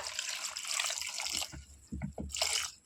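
Water is poured into a pressure cooker holding lentils with cucumber, mango, chilli powder and turmeric, a close splashing stream that turns into short gurgling bursts.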